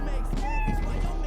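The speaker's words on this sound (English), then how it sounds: "Well, it's just a normal cat now." A single drawn-out cat meow from the Lethal Company video game, clear and fairly loud over a low hum, with players talking around it.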